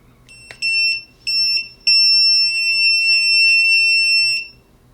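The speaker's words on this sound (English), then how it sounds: "when we plug this in, we should get a series of beeps." Electronic beeps from an Eggtimer Quantum altimeter board powering on sound close and clear: two short tones followed by one long sustained beep, all high-pitched and alone.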